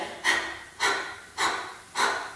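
Four forceful open-mouth breaths in yoga pranayama, like a panting dog, evenly spaced about half a second apart, loud and close with no talking.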